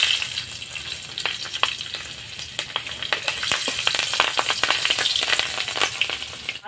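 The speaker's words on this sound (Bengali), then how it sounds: "কালো জিরে কাঁচা লঙ্কাটা ভাজা হয়ে গেছে" Black cumin seeds and whole green chillies fry in oil in a wok, giving a steady hissing sizzle dotted with sharp crackles and pops, with no talking.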